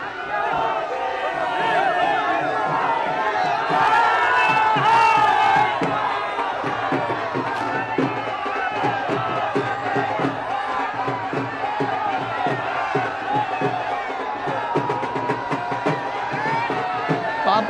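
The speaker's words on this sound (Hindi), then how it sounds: "इस भीड़ में समवेत स्वर में जो मोदी मोदी के नारे लग रहे हैं, उसके साथ ही साथ ढोल ताशे के स्वर भी नजर आ रहे होंगे।" A large crowd in Varanasi chants Modi slogans during a prime ministerial visit to the Kashi Vishwanath temple, a loud, dense roar of voices with rapid drumming from dhol and tasha pulsing through it, and a voice talks over the whole stretch.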